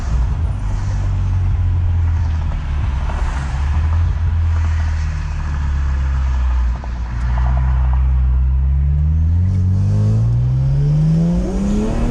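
A 600 AWHP BMW 335i race car with no air conditioning accelerates hard, its engine roaring loud and close as the pitch climbs through the gears in long rising pulls.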